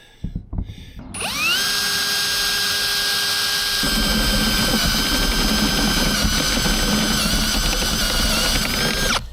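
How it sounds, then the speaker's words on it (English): A power drill spins up and grinds steadily into a Sprinter van's metal roof, a loud continuous high-pitched whine with a sharp start after a few brief knocks. "Time to drill."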